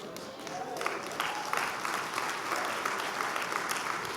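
Steady crowd applause fills the whole stretch at a motivational talk, a dense even patter of many hands clapping with a few louder claps poking through.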